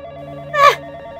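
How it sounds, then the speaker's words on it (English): A telephone rings once in the horror game Screamtalia, a short bright electronic trill rising over a steady low background drone. "Calm down, it's just the phone."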